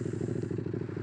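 A Buell 1125R motorcycle engine cranks over with a rapid, rhythmic chugging pulse, close and steady for about a second with no voices.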